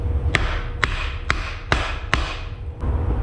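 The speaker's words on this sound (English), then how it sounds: "Notice the higher pitch sound when you hammer it." Hammer blows on a seized piston in an old Willys Jeep engine, six sharp metallic strikes at a steady, slightly uneven rhythm, close and loud with a bright ringing edge.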